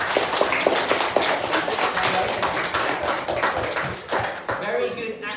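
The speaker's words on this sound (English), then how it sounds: "Give him a round of applause." Pupils at a school assembly clap briefly, with sharp scattered claps at the start giving way to a dense burst of applause that cuts off near the end.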